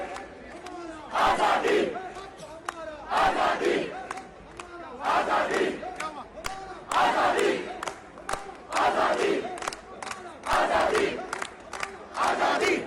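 Crowd of PTI protesters outside Avenfield chants slogans in loud rhythmic bursts, each roar of many voices repeating every couple of seconds with brief lulls between.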